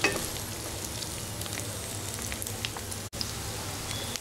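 Sesame seeds fry in a pan for bagaara baingan, a brinjal dish, with a soft continuous sizzle and crackle heard close up, briefly broken near the end, and no talking.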